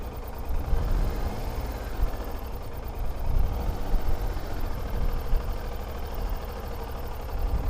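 A motorcycle engine runs at low speed with a little throttle on a hill during a slow-riding challenge: a close, steady low rumble that swells slightly now and then.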